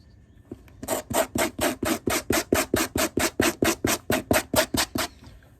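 Coarse sandpaper scrubbed by hand across the leather sole base of a Tecovas boot during resoling, about seventeen quick, even rasping strokes in a steady rhythm, close and fairly loud, with no talk.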